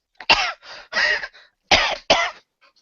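A fit of coughing from a woman: several sharp, harsh coughs in two quick bursts, close and loud, with a brief pause between.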